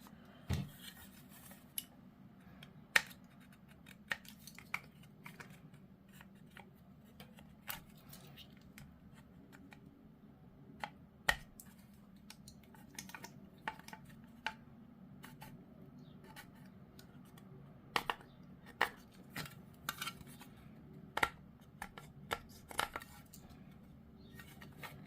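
Hobby knife nicking through hard injection points on a plastic model kit part for the Stormbringer domicile shell, giving sparse sharp clicks and snaps scattered over a quiet room hum.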